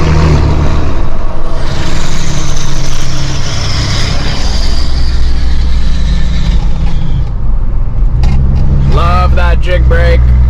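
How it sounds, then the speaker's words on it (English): A Dodge 6.7 truck engages its Jake brake, a loud, sustained low engine roar and rumble that fills the clip, with a brief rise in rattling bursts near the end. "every time I pass this wall by my place that I always like to engage my jig brake"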